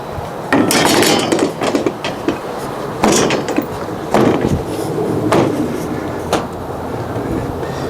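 Metal clamps come off an interior door with a series of sharp clanks, knocks and rattles at irregular intervals, close and loud over a steady low background hum.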